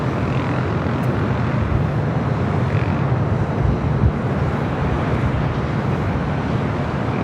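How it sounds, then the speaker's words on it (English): A Lufthansa Airbus A380 on final approach at Los Angeles LAX. Its engines make a loud, steady, broad roar that rumbles low throughout, with no talking. "Got Lufthansa A380 now on final approach."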